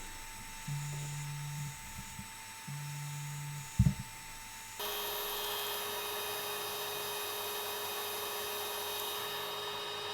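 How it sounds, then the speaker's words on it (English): A small grinding stone on a handheld Dremel works a giant ceramic razor blade. A quiet motor hum and brief buzzing passes give way to a steady high whine from the rotary tool that runs on to the end. "I set up a little grinding stone on my handheld Dremel"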